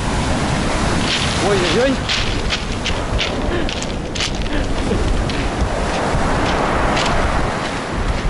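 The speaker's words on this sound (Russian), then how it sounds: "Смотрите, какая волна. Ух. Вот эта волна вот идет." Stormy sea waves surge and crash along the shore in Sochi, a continuous loud roar of surf and wind buffeting the microphone, with a voice exclaiming briefly over the noise.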